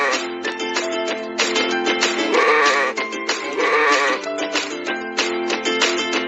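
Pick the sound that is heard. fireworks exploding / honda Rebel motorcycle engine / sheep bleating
sheep bleating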